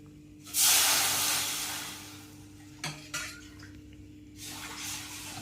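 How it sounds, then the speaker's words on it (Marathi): Water poured into a pan of roasted khapli wheat semolina, a loud hissing gush that tapers off, followed by a few utensil knocks and a second, softer rush of water. "ह्याच वाटीनं 3 वाटी पाणी ठेवायचं."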